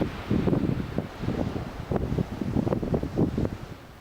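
Storm Isha striking the UK and Ireland with heavy rain and gusts topping 160 km/h: a steady, loud roar of wind and rain with surging gusts that rise and fall throughout, heard alone with no voices.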